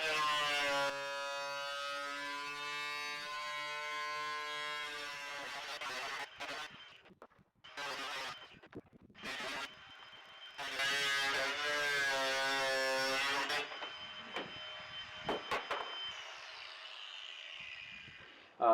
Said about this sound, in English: you saw me grinding these down so I could open a space for the window